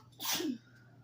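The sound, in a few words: sneeze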